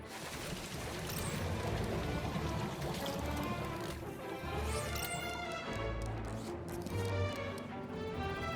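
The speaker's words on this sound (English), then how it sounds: "Water refill complete." Water pours as a robot refills a water tank in the video game Beyond a Steel Sky, a steady splashing trickle with faint chirps and ticks and no speech.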